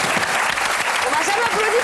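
Audience applause on a French radio comedy show, a dense continuous clatter of clapping filling the whole moment with a voice talking faintly underneath.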